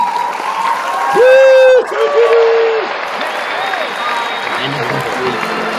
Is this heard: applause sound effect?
yes